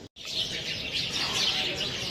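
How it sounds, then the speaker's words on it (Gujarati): Many sparrows chirping together in a busy, continuous twitter, fairly close, after a brief cut at the start. "ચકલીઓનો અવાજ ખાલી સાંભળો તમે"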